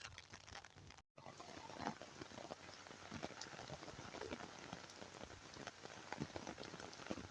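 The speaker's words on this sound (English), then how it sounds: "the rain is coming down now. It's getting heavy." Heavy rain pours down steadily across a cemetery, a dense close patter of drops hitting surfaces with scattered sharper splashes, continuous apart from one very brief cut near the start.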